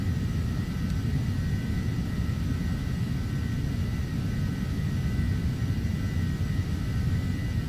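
Embraer airliner engine in Flight Simulator X: a steady, droning jet rumble with a faint high whine, continuous and even throughout, no talk over it.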